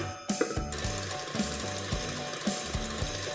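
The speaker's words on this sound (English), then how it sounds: "Just going to put this into the mixer." An electric stand mixer whips thickened cream with icing sugar, giving a close mechanical whir with a rhythmic clicking beat about once per second.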